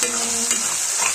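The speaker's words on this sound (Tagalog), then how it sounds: "At ito na yung ating balon-balunan na fry na natin siya" Chicken gizzards frying in a pan give a loud, close, steady sizzle with a brief stirring scrape, lasting just over a second without voices.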